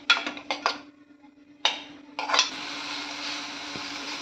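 Prawn rice masala being sautéed in a pan: several sharp metallic scrapes and clinks of a spoon against the pan, then a steady soft sizzle continuing underneath, close and fairly quiet.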